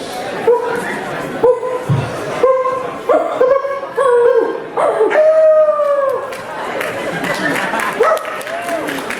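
Several voices mimic dogs, trading yelps, barks and drawn-out howls in quick overlapping bursts, close and lively.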